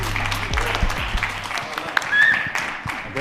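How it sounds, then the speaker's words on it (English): Scattered clapping and applause from a crypto summit crowd, moderately loud, with people talking over it throughout. "Give them a round of applause."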